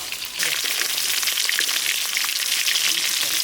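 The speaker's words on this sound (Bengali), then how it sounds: "ভেটকি মাছের পেটিগুলো ভাজা হবে" Bhetki fish belly pieces fry in hot oil with a constant, close, bright sizzling hiss that rises after a brief softer start and continues steadily without any voices.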